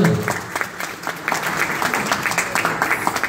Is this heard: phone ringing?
no